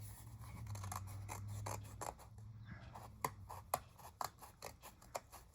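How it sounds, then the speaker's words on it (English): Scissors trim the edges of a Moana craft picture to fit a 5x7 frame, heard up close as a quiet run of crisp snips, several in quick succession and sharper toward the end. "I'm just trimming off the edges of this so that it fits in my 5x7"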